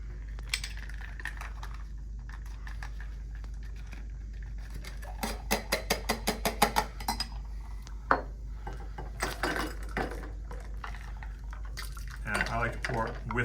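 A drink is poured over ice in a glass: a quiet stretch, then a quick run of sharp ice clinks and cracks, a louder knock, and splashy trickling toward the end, all close to the microphone.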